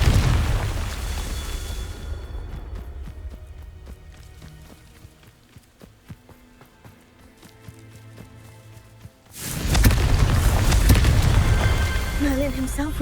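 A Confringo blasting spell going off in the video game Hogwarts Legacy, a sudden loud booming burst that hits after a quieter stretch of scattered taps and rumbles, then stays heavy and sustained to the end.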